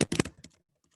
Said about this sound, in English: My typing skills today, not that great.